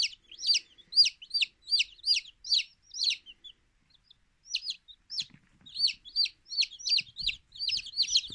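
Newly hatched chicks peep inside an incubator, a rapid series of high, close, clear cheeps in bursts with a brief pause midway, some faint low knocks underneath.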